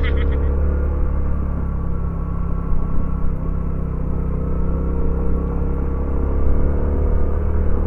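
Motorcycle engine climbing a steep uphill road in first gear, a steady close low rumble that labors without much change, heard alone with no talk.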